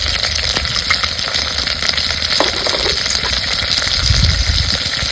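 Red chili powder sizzles in hot oil for a Maharashtrian spiced black bean rice, a steady close frying hiss running throughout with faint stirring knocks.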